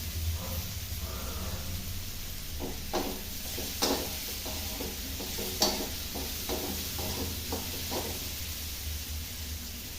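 Tomatoes fry in oil with a steady sizzle beneath a series of scraping stirs, louder strokes near the middle and end, no talk.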